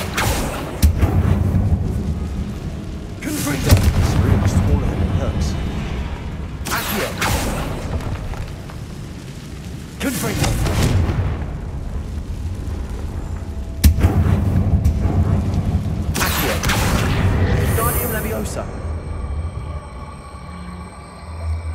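Confringo fire spell in Hogwarts Legacy, a series of deep booming blasts with long rumbling tails, about five heavy impacts at irregular intervals, loud and close.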